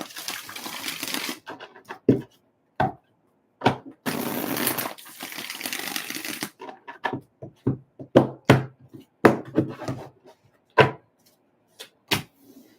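Tarot cards are riffled and tapped together in repeated bursts, with short crisp clicks and brief shuffling rushes, close up and without talk.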